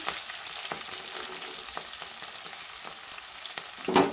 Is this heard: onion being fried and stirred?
yes